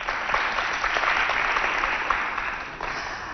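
Audience applause for a jury member at a televised Chadian school competition, dense continuous clapping from a crowd, fairly even throughout with a slight fade at the end.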